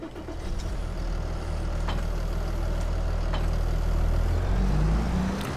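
A Fendt tractor engine in Farming Simulator 22 drones steadily and loudly throughout, with a low, even rumble and a couple of faint clicks over the top.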